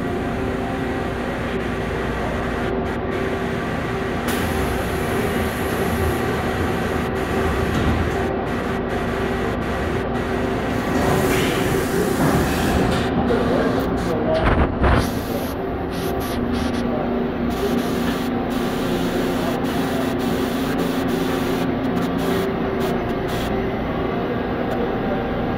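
A Mazak MTV-815/120 machining center runs with its tool changer working: a loud, steady mechanical hum and whir with shifting tones and occasional clunks, with no talk.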